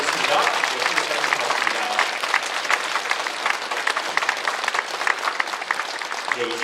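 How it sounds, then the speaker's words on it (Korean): Sustained applause from a congregation at a church prayer meeting honouring a visiting missionary, dense, even clapping filling the room throughout, fairly loud and close, with no break. "여러분 다시 한번 박수로"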